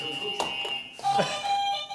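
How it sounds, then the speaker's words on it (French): An electronic quiz buzzer at an evening cycling quiz sounds with steady tonal beeps, held over a noisy room where people are talking nearby. "C'est le buzzer de la soirée."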